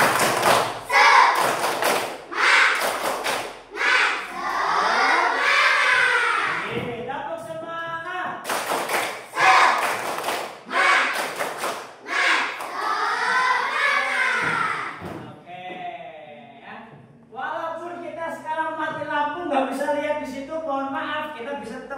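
An Indonesian Islamic religious-education class performs the rhythmic "tepuk semangat" clap, bursts of sharp patterned claps alternating with children's chanted voices, loud and close with lively group shouting between clap runs.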